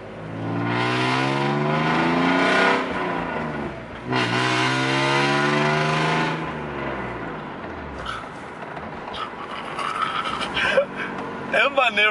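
A BMW E46 fitted with a valve exhaust revs hard in two long, loud pulls that climb and fall, then settles into a rougher, lower rumble as it drives off, with a few sharp clicks and pops.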